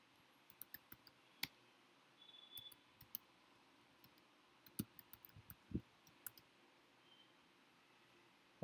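Scattered, sparse clicks of computer keys being typed come through faint and close, with uneven gaps and small clusters of taps in a quiet room.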